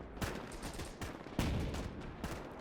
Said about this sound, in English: But all the guns are firing across the trench.